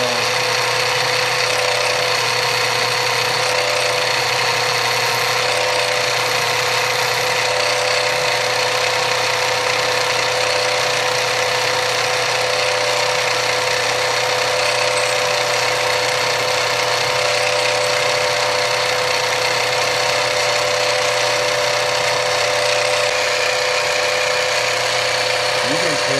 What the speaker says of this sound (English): You need to start slowly so your drill centers itself.